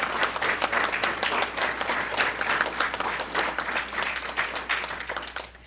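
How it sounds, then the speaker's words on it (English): An audience gives business mentors a big round of applause at an internship program presentation, a full, continuous patter of many hands holding steady and fairly loud from start to finish. "let's give them a huge round of applause."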